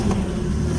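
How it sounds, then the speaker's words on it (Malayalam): Classic car engine at the Dubai Motor Show, a short loud low rumble with a slight rise in revs, close and steady, with no speech. "ആ വണ്ടിയുടെ ശബ്ദം കേട്ടോ."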